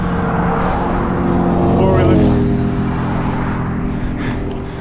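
A car passing on a paved road, heard from the roadside by a touring cyclist: a loud, steady engine and tire rush that swells and fades as it goes by.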